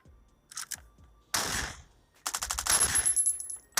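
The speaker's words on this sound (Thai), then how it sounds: "เฮ้ยมีการยิง" Bursts of rapid automatic gunfire in a mobile survival video game crackle in short volleys, separated by brief pauses, with a loud sustained barrage near the end.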